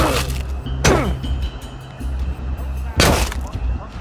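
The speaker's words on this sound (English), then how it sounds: "They're bombing us again!" Heavy bombing explosions in the video game We Happy Few: two loud, broadband booming blasts about two seconds apart over a low rumbling ambient hum, with no talking.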